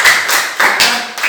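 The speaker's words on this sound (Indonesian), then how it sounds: "tepuk tangan dulu untuk teman-temannya" Students in a physical education class clap briefly for their classmates, a short burst of several quick, close hand claps with a couple of louder accents.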